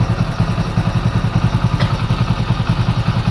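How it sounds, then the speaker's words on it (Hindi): A Hero Splendor Pro motorcycle engine, just repaired after white smoke and noise trouble, idles close by with a steady, even rapid thumping beat and no talk over it. "तो यहाँ पर गाड़ी को स्टार्ट करेंगे"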